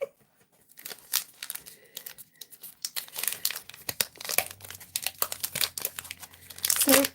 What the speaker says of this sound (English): So we'll keep unwrapping the Kit Kats while we wait for melted chocolate.